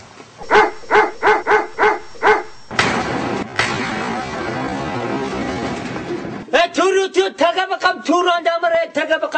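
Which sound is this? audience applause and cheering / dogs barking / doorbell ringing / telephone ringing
dogs barking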